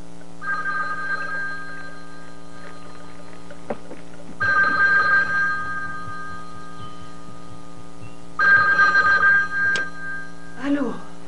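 Telephone ringing in a 1986 French drama, three separate rings spaced several seconds apart, each a trilling bell burst over a steady low mains hum.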